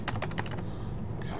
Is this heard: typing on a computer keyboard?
yes